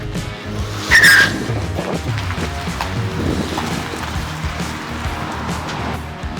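A Dodge Challenger rolls into a garage, its engine rumbling steadily at low revs with a brief louder tire squeal or scrape near the start, then a continuous mid-level engine drone with no one speaking.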